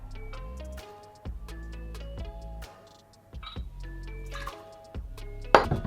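Blood orange gin poured for a Cheeky Vimto cocktail, a series of close, clear liquid glugs and drips with ringing pitched tones, several separate pours in a few seconds, ending with a sharp clink.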